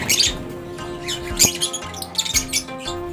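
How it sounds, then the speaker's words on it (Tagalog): Several pet birds squawk and chirp in sharp, irregular bursts nearby, over a faint steady hum. "mga ibon natin"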